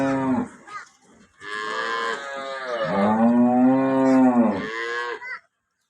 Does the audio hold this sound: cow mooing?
yes